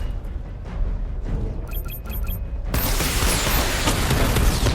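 A missile barrage in Batman: Arkham Knight opens with a few bright metallic ticks over a rumbling bed, then bursts into a dense, loud, sustained roar of rapid launches and blasts that fills the rest of the clip.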